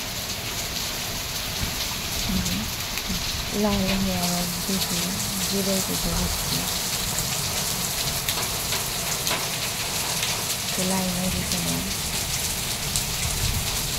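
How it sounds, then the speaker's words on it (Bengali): Heavy rain pours steadily in a dense, broadband rush during a prolonged storm with wind and a power outage, staying loud and constant throughout while someone talks over it in the foreground. "সেই দেখুন আরও জোরে পড়লো বৃষ্টি।"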